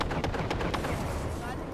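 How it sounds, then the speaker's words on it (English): Rapid video game gunfire crackles continuously in bursts, dense and loud throughout, with the sharp repeated reports of automatic weapons in a battle-royale style shootout. "I'm being shot at."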